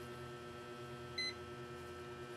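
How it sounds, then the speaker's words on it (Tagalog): A single short electronic multimeter continuity beep sounds briefly in the middle, high-pitched and clean, over a steady low background hum, while testing a Dell Latitude 5400 laptop. "Para malaman natin kung magbibip"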